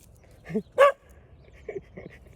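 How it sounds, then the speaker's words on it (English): A dog gives a few short, soft barks and yips close by, two quick ones then a pair of quieter ones, in an otherwise quiet space. "Ruby, it's a nice puppy."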